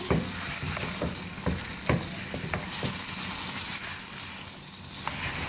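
Chicken fries in ginger garlic paste over a medium flame, a continuous loud sizzle with periodic scraping strokes of a spoon stirring the pan.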